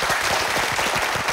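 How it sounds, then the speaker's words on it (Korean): Audience applause at a large Korean televised national debate marking the 70th anniversary of liberation, a dense, steady wash of many hands clapping together, fairly loud and sustained with no speech over it. "박수"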